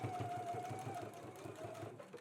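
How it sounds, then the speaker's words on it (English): A home sewing machine stitches a garment seam at a five-eighths-inch allowance with a quiet, rapid, even mechanical whir and fine needle ticking, running continuously for a couple of seconds. "we can go ahead and stitch at a 5/8 of an inch seam allowance"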